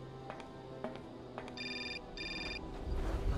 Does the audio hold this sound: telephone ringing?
yes